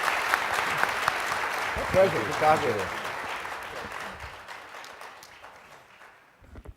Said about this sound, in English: let's give a round of applause for these gentlemen for this great panel